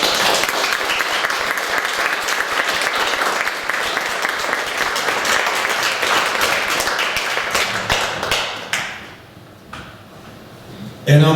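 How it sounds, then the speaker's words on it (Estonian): Audience applause fills a village hall at a music and seniors' day event in Luunja, loud dense clapping that runs steadily for several seconds, then fades to scattered claps before a sharp burst at the end. "Aplaus meie emadele."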